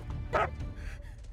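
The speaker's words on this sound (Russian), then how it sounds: "это просто щенок" A puppy gives a single short bark-like yip amid low background rumble at a customs checkpoint, with a faint voice nearby.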